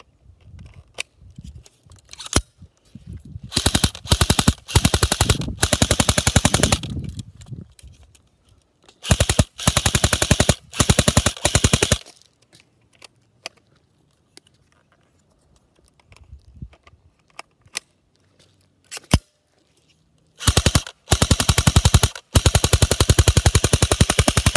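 An LCT AMD65M airsoft rifle emptying magazines in long full-auto strings, rapid sharp mechanical cracks in several bursts of a few seconds each, with quiet gaps and occasional single shots between them.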